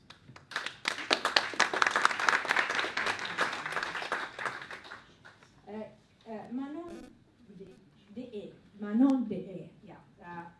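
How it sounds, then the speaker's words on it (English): Audience applause at a political panel event on women in politics, a burst of clapping for the first half that fades out, followed by a person speaking close by. "Applaud to Mo"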